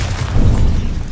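A Bombarda blasting spell goes off in Hogwarts Legacy, a loud, dense, low boom filling about a second with a short swell in the middle.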